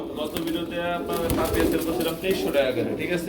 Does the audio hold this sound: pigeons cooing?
yes